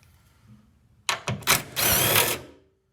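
A power driver with a T27 Torx bit backs out a tie-down bolt on a Ford Maverick tailgate, a close, loud whirring burst with a couple of stuttering starts followed by a sustained spin, then stops.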